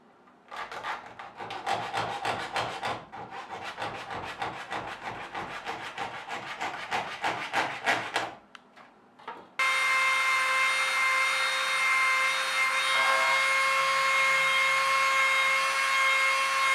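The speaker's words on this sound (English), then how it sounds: "Then the excess material is trimmed." Excess Kydex sheath material for a neck knife is trimmed with low-cost hand tools, producing steady rhythmic rasping strokes for about eight seconds, then a pause and a continuous loud whirring motor drone with no talk.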